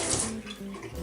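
Tap water pours steadily into a sink while someone washes their face, a close, continuous splashing flow with small shifts in the spray.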